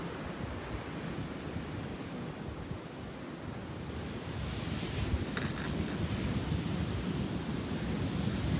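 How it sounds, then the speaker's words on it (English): Ocean waves wash onto a sandy beach at a cove, a continuous rushing surf mixed with wind noise that grows somewhat louder halfway through, with no one speaking. "Look, there's an ocean."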